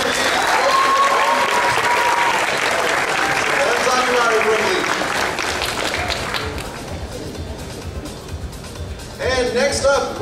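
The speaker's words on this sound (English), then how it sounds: "one more big round of applause for Renji." Audience applause at an anime convention costume contest, a dense, loud wash of clapping that carries on for several seconds and slowly fades, with crowd noise and a speaking voice over it.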